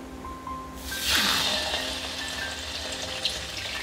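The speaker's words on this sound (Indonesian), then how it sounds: "Goreng tahu pula." Tofu dropped into hot oil in a home kitchen starts a sudden loud sizzle that then settles into a steady hiss of frying with faint bubbling, and no one speaks.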